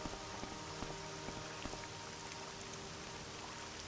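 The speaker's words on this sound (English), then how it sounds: "I installed another small mod which changed the way the rain looks in the game" Steady rain in Morrowind with a weather mod installed, a dense even hiss broken by scattered sharper drop ticks, constant and fairly close throughout with no voices.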